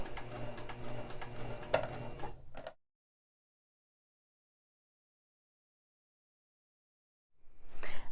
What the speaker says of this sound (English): you're going to sew another seam on both sides